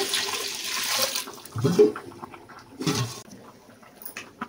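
Toor dal being washed and its water drained: splashy bursts of pouring and sloshing water, close and moderately loud, coming in two or three surges with quieter gaps between.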